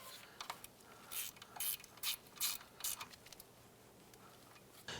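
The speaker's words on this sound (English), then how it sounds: "I'm going to tighten down this bolt right here." Ratchet on a 7mm socket tightening a bolt on a front wheel hub bracket of a 2003-2012 Chevy Colorado: quick bursts of close, crisp clicking in short irregular strokes, with no talk.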